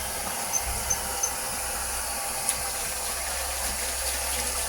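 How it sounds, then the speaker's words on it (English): Hands being washed under a running tap give a steady, even rush of water that fills the whole stretch at moderate level, with a few faint clicks and no talking. "let me wash my hands"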